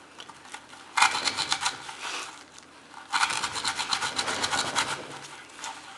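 A VG-10 steel Delica knife cuts during an edge retention test, making two sustained bursts of close, gritty rasping and sawing with a short pause between them, and no voices.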